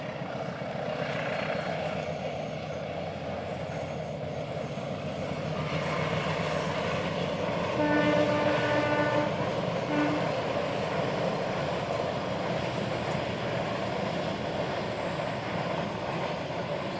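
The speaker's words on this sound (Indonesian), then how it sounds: "Ini adalah kereta api Serayu yang kebetulan lewat, dia reguler" Serayu passenger train rolling past on a regular service along an Indonesian railway line, a steady loud rumble of wheels and engine filling the whole stretch with a brief horn-like tone midway, no talk.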